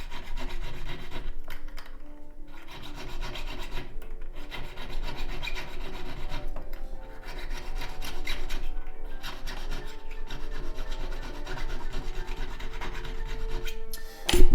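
A metal file rasps steadily against a ring, scrubbing borax off the metal, loud and close in long continuous back-and-forth strokes with a few brief pauses and no talking.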